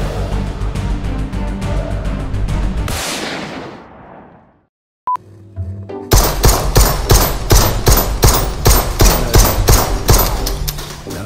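Rapid automatic gunfire from a gun in the zombie hotel shooter Propagation: Paradise Hotel, loud dense bursts for about three seconds, a pause with a single metallic click, then another long sustained burst of sharp repeated shots.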